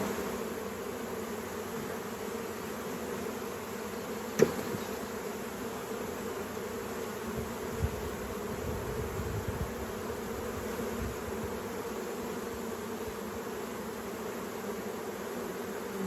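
Honeybees buzz around an open hive frame while the keeper searches for the queen, a steady, low, continuous hum with no talking and only a couple of faint clicks.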